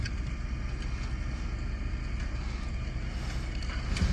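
A tractor pulls a disc across a field, heard as a steady low engine drone with wind noise over it and a soft thump near the end.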